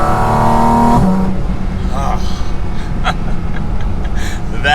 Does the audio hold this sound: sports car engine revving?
yes